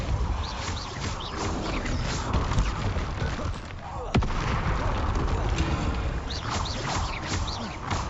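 A Depulso spell effect in the Hogwarts video game, heard within a dense, loud mix of magical blasts, booms and bursts that runs continuously, with one sharp crack near the middle.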